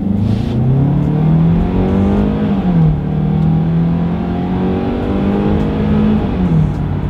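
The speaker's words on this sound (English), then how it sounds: "let's see how quickly we can get our new 2023 Kia Sportage here up to speed" A 2023 Kia Sportage compact SUV accelerates from a standstill, its engine note loud and close, rising through gears with a few dips as it shifts.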